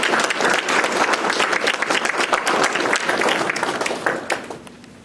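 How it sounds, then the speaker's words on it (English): Audience at an Eagle Scout ceremony applauding the newest Eagle Scouts, dense steady clapping from a crowd that fades out toward the end. "Let's give them a round of applause."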